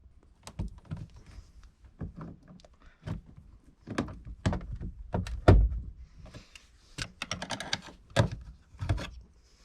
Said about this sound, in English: let's take this clip out and might take a flathead and some pliers to get that guy out